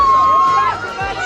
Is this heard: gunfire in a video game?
no